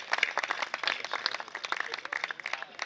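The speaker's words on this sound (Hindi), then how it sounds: "तालियां बजाएं, आप भी अभिनंदन करें।" Audience applause at a Hindi kavi sammelan poetry recital, a dense, steady patter of many hands clapping at moderate volume throughout, with no voices over it.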